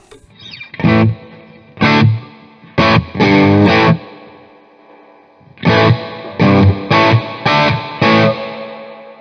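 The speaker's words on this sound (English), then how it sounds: "we'll bring the reverb up" Electric guitar chords strummed through an amp, each burst ringing out with a reverb tail that decays between strums, loud and close.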